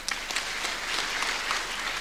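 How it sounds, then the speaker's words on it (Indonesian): Applause from a large audience at an Indonesian university graduation ceremony, a steady dense clatter of many hands that carries on evenly without pause. "Tepuk tangan semua."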